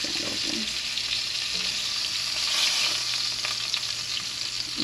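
Lamb chops sizzle steadily in a hot skillet, a dense continuous frying hiss with no breaks, close and fairly loud throughout.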